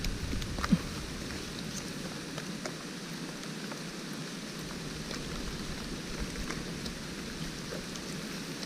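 Steady rain falling outdoors during a mushroom hunt in forest near Chiang Kham, Phayao, a continuous even hiss of drops with one brief tap early on and no voices.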